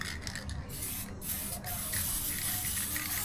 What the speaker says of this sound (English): You can control your spray if you want